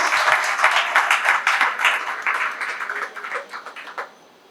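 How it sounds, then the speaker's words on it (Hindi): Audience at an event clapping loudly on request, a burst of dense applause with a rhythmic pulse that gradually thins and fades out after about four seconds. "एक बार जोरदार ताली बजा दें"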